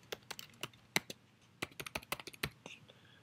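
A computer keyboard is typed on while a login is entered, giving a quick, close run of crisp, uneven key clicks, with no talking.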